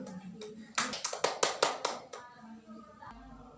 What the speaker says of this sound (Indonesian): Beri tepuk tangan untuk Alika sudah menjawabnya dengan benar.